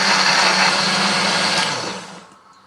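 A blender whirs loudly and steadily, grinding a spice paste of chili, ginger, garlic, shallot and candlenut with a little water, then winds down and falls quiet at the end.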